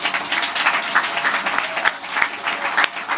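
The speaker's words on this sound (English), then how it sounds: "give yourselves a round of applause" Audience at a battle of the bands event gives a sustained burst of dense, steady applause, many hands clapping together at close range without a break.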